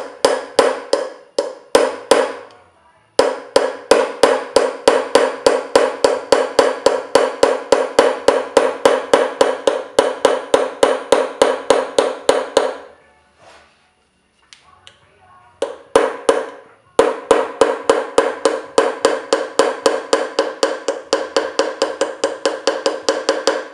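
A small hammer taps a steel chasing tool along the outline of a drawing on metal, a fast, steady run of sharp close metallic strikes with two brief pauses, one longer gap partway through, then the rapid tapping resumes.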